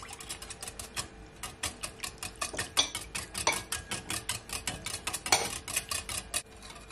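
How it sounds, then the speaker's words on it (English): Eggs, milk and sugar for peach cobbler batter being stirred in a bowl, a steady run of quick clinking, scraping strokes at close range with no talk. "I'm just gonna add my eggs into my milk like so. I'm gonna give it a stir"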